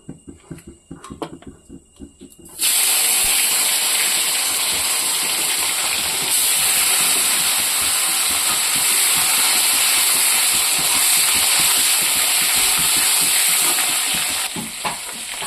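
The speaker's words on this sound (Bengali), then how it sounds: "ওখানে আমি শুটকিটাকে ভেজে নেব।" Dried fish hits hot oil in a wok and erupts into a loud, sustained sizzle that holds steady after a few quieter clatters at the start, with no talking.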